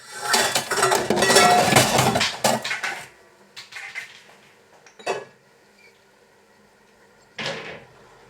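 Kitchen sounds while a kohlrabi is prepared at home: a busy stretch of knocks, clinks and board contact, then a few isolated sharp knife-on-board taps separated by quiet pauses.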